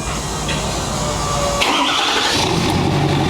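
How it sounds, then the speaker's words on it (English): A Ford 6.7L Powerstroke diesel, newly built to 725 hp, cranks and catches, then settles into a steady, loud, close-up idle with no talking. "So let's fire it up."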